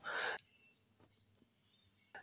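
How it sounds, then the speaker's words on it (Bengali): Budgerigars and diamond doves at a small home farm give thin, high chirps and short calls, faint and scattered between a loud rustling burst at the start and another at the end. "এই যে এদিকটায় হচ্ছে বাজরিকা পাখি এবং এ পাশটায় হচ্ছে আমার ডায়মন্ড ডাব"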